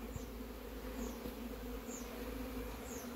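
Honey bees hum steadily from an opened hive frame during inspection, a dense continuous buzz close by with no talking.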